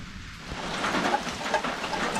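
Rain falling steadily outdoors and draining from a gutter, a dense continuous hiss of water that swells slightly louder after the first half second.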